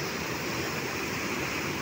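Floodwater from a swollen river rushes past, held back by the Adhala dam upstream, in a steady, loud, broadband roar that continues without a break for the whole moment, with no voices over it.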